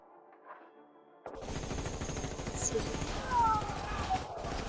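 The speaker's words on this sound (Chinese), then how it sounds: "开枪！" After a quiet moment, a squad of modern firearms suddenly opens up in a battle, a dense, loud, rapid rattle of shots that keeps going without pause.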